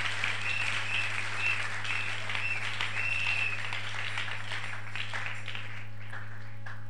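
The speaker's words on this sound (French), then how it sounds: "Et nous applaudissons le Seigneur notre Dieu" A church congregation applauds in praise, steady moderate clapping over a low constant electrical hum, with a faint sustained tone drifting through the first half and no one talking over it.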